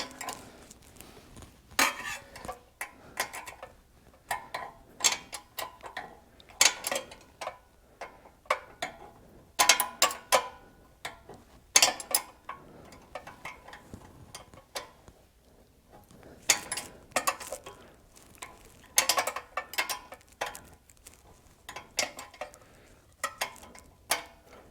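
Wrench work on the engine of a Coleman KT196 go-kart during an engine swap, scattered close metallic clinks and ratcheting ticks coming in short irregular bursts with quiet gaps between, no talking.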